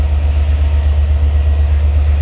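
A train stands or idles at Parbatipur railway junction station, a loud steady low rumble of engine throughout with a faint constant high whine above, no voices.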